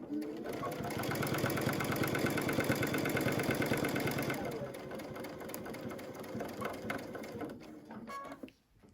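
Sewing machine stitching a denim cathedral window table runner, a steady close whirring run of rapid stitches for about four seconds, then slowing into quieter intermittent stitching and handling noises.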